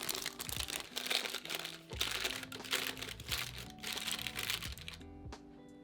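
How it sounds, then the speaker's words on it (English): Parchment paper circles having their edges scrunched by hand, a close, quiet run of crisp crinkling and crackling in uneven bursts for several seconds, then falling silent at the end. "Now scrunch up the edges of the parchment circles a little so the sauce doesn't run out the sides."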